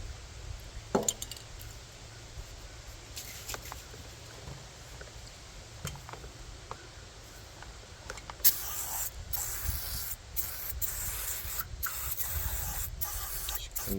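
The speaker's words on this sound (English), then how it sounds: "We'll spray it down with some cleaner yet." Cleaner sprayed onto a disassembled Stihl MS290 chainsaw in a quiet workshop, heard as a few faint hissing bursts followed by a steadier, louder spray hiss near the end.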